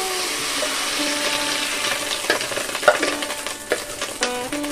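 Fish roe frying in hot oil in a pan while a spatula stirs it, a close, bright sizzle with scraping and clattering strokes that grow busier toward the end, no voices.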